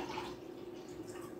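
Purified water pours into a cup, a soft, steady trickling stream heard close up and fairly quietly for a second or so, with no voices over it.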